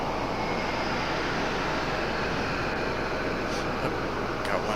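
Jet aircraft departing Raleigh-Durham airport, a steady broadband engine roar that stays loud and continuous throughout, with a faint voice briefly audible over it.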